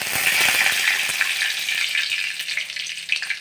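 Mustard seeds, cumin and curry leaves sizzle and crackle loudly in hot oil in a kadai for vegetable rice, a dense steady hiss with sharp pops throughout.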